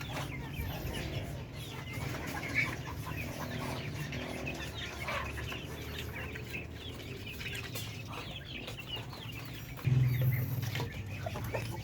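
Native chickens and ducks feeding on spilled feed under a pen, with soft clucking and scattered bird calls over a quiet background and a brief louder burst near the end.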